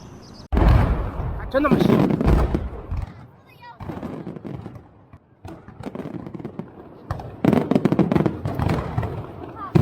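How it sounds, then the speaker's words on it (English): Rapid bursts of fireworks in China crackle and bang in dense volleys, pausing briefly before another loud barrage erupts. "When it comes to fireworks, China always puts on a show"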